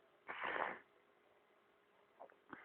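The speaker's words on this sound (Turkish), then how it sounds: "Pardon özür dilerim. Burnumu çektiğim için." A person sniffles, one strong wet snort-like sniff followed by two short quieter sniffs, close and alone in a quiet room.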